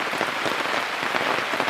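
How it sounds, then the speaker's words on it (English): Rain falls steadily at a bush campsite, a dense even patter of drops on surfaces, close and continuous without pause or voices. "And here comes another bout of rain."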